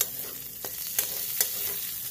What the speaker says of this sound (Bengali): এবার আমি এর মধ্যে কাঁচা লঙ্কা কুচি দিলাম